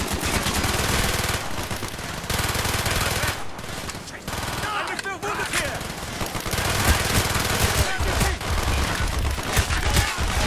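Continuous machine-gun fire in the game Call of Duty: Black Ops, dense rapid bursts from several weapons in a loud firefight that barely lets up, with a voice speaking underneath.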